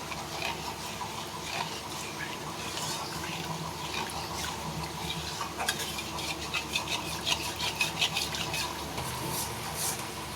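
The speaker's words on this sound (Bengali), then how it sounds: "2 কাপ দুধ দিয়ে খুব ভালোভাবে নাড়িয়ে নেব।" Milk and flour sauce cooked in ghee being stirred in a pan, soft scraping and wet swishing strokes repeating over a faint simmer, close and fairly quiet.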